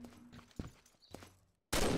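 Gunshots in a video game shooter: a few sharp, close reports over faint background noise, a brief near-silence, then a sudden loud, dense burst of fire.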